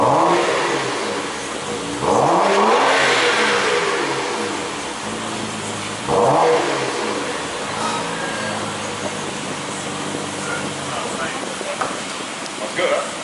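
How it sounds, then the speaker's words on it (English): A 2011 BMW E92 with its muffler deleted revs hard twice, each rising, raspy surge swelling loud and close before dropping back to a rough, rumbling idle. "And now Maria, she's gonna start it up for the first time."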